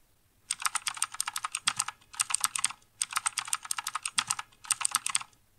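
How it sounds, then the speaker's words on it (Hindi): A password being typed on a computer keyboard, close and crisp, in three or four quick bursts of rapid key clicks separated by short pauses. "तो हमें सेकंड पीसी का ही पासवर्ड टाइप करना है इसके अंदर"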